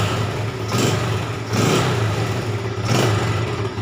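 A Yamaha Jupiter motorcycle engine, suffering an ignition fault with a double starter, runs steadily close by with a low mid-range drone and three brief revving surges, with no talk over it.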